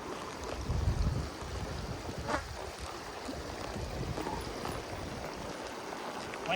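A river in Lesotho flows steadily, a broad, continuous wash of water with a brief louder surge near the start, heard up close and alone with no voices.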